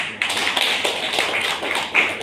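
A group of people claps at a gathering celebrating an umrah pilgrimage. The applause is close and crisp and continues steadily, with a few louder claps standing out.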